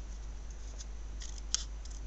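Scissors make a few faint, quick snips while cutting paper to make trombone bow embellishments, over a low steady hum.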